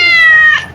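A cat lets out one loud, close, drawn-out meow that rises slightly and fades at the end.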